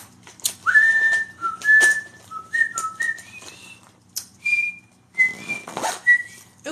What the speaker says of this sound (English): Oops, sorry about that. Shouldn't be whistling.